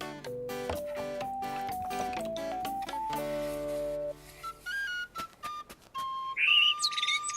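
A little cartoon bird chirps near a birdhouse being repainted, its bright whistly tweets coming in short bursts after a stretch of plucky cartoon music, the loudest trill near the end.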